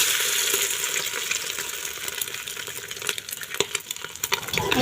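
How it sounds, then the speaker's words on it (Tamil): Four beaten eggs frying in oil in a pan as they are stirred, a close crackling sizzle broken by scraping and tapping of the spatula against the metal. "முட்டையை நல்லா கிளறி விட்டுக்கோங்க"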